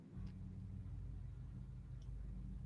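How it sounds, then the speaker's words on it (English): A low, steady hum of road traffic with a dull rumble of passing cars runs continuously in the background, with no voices over it. "like a humming background of traffic"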